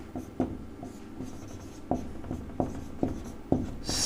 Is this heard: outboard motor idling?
no